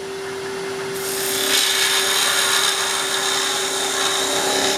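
Woodturning tool cutting a deep V-groove into a spinning wooden angel ornament on a lathe, a steady close scraping hiss over a constant motor hum that grows louder as the cut engages.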